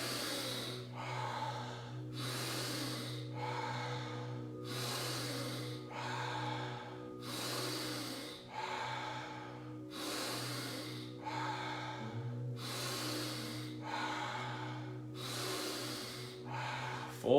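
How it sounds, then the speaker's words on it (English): Slow, deep guided breathing, each breath drawn in through the nose and pushed out through the mouth. About eight or nine full breath cycles repeat in a steady rhythm, close and clear over a low constant hum, with no talking. "Inhale through the nose. Exhale out the mouth."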